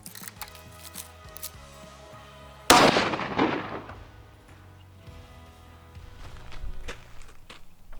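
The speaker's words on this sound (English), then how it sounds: "so we shot our first shot" A single sharp shot from a Springfield Armory 2020 Waypoint rifle rings out a few seconds in, loud and close, then decays slowly over a quiet background of steady music.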